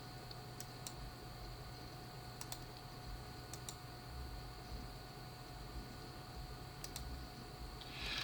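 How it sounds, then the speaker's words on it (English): Faint keystrokes on a computer keyboard tap out in small irregular clusters over a steady electrical hum, quiet and close with no voices. "So I might be typing my paragraph"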